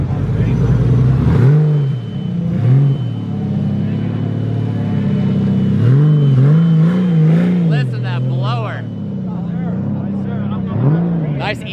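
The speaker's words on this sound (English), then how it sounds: "Rev it up." A Ford GT sports car engine revs loudly nearby in repeated rising and falling pulls, over a deep idle rumble, while onlookers talk around it.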